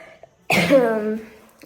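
A single harsh, drawn-out cough from a lingering illness, close by, after a short quiet moment.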